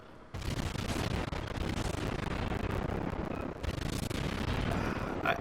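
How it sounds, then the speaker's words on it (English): Warship guns in World of Warships fire high explosive shells in dense, overlapping booming salvos, a loud continuous barrage of blasts and rumble with a brief dip before resuming. "I'll just keep hurling high explosive shot at this guy"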